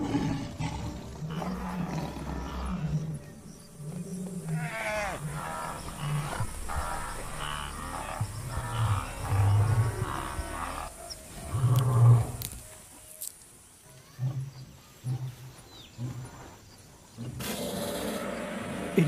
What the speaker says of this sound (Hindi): एक दहला देने वाली दहाड़ जो मीलों दूर तक सुनी